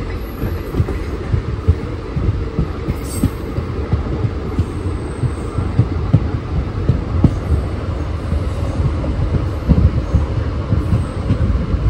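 A non-AC double decker train pulls into platform 3 at Udvada station, a loud continuous rumble with rhythmic wheel clatter and faint high squeals, with no voices.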